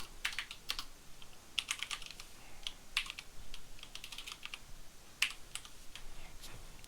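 Steady, rapid typing on a computer keyboard while entering Java code, a continuous run of close, crisp key clicks with irregular rhythm and occasional louder strikes over faint background hiss, no voices.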